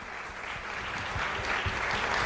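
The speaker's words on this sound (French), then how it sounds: "On les applaudit." An audience at a conference claps after the speakers are thanked, dense steady applause from a roomful of people that holds evenly and swells slightly toward the end, with no voices standing out.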